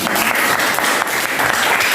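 Applause from a classroom of students during a teacher's practice lesson, a steady dense patter of many hands clapping close by for two seconds.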